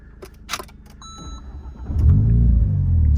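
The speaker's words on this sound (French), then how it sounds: "on sent l'échappement qui n'est plus vraiment celui d'origine" An Alpine "Ravage" car with a modified, non-original exhaust starts up after some clicks and knocks, then its engine settles into a loud, deep, rumbling idle close by.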